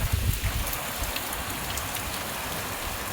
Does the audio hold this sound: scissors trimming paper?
no